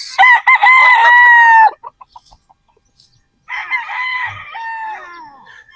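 Sweater Boston gamecock rooster crowing twice up close and loud, with a long drawn-out call, a short pause of soft clucks, then a second crow.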